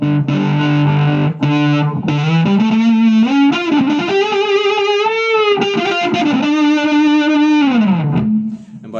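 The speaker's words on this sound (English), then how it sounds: "We can add a bit of chorus there by spinning the modulation knob." Electric guitar through a Line 6 Spider IV 120 amp with chorus modulation dialed in, a continuous slightly distorted line of sustained, gliding notes with a shimmering wobble, loud and alone for about nine seconds before fading.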